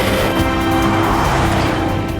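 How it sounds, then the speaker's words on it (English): A Pagani Huayra supercar, a 730-horsepower car, drives fast with a loud, dense engine roar and rushing road noise, sustained and close throughout a short burst, with no talking. "The Huayra is noisy, aggressive and massively fast."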